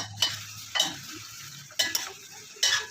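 Okra cooks in a pan with a soft sizzle while a utensil stirs and scrapes it. There are four short clatters, quiet and close, with no talk.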